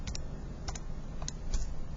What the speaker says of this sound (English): And again, you could type that in a calculator.